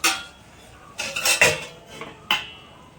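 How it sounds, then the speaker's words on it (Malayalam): A metal lid goes back onto a pot of cooking beef with several sharp, close clanks and scrapes of metal against metal. Brief quiet gaps separate the clanks, and no one speaks. "അപ്പോൾ നമുക്ക് പിന്നെയും മൂടി വെക്കാം"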